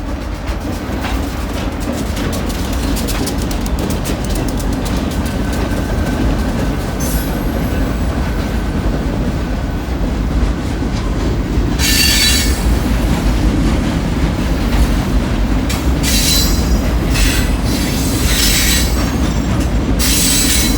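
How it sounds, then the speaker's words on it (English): A train rumbles past at close range for a long stretch, wheels clattering steadily on the rails, with bursts of sharp metallic squeal near the end. "here comes the train"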